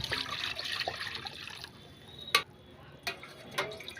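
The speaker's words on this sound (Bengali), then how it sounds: "কিছুটা জল দিয়ে দিলাম" Water is poured into a wok set on a lit home stove, a soft continuous trickle and splash over the first seconds followed by a few brief clinks of cookware.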